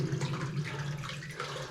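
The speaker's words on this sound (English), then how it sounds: "Look where the water's coming From down there." Water running down a chute deep inside the Old Dominion Mine, a steady close rushing wash that holds even throughout with faint splashy texture.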